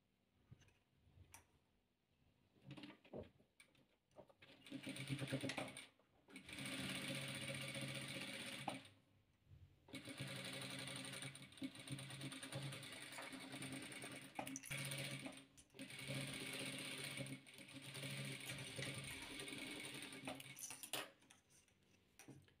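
Sewing machine stitching patchwork squares: long runs of rapid mechanical chattering lasting several seconds each, broken by brief pauses and soft ticks, close and steady, with no speech.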